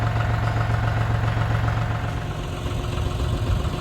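A cold diesel tractor engine treated with John Deere diesel fuel treatment idles with a steady, loud, low rumble and a fast, even knock throughout, with no talking.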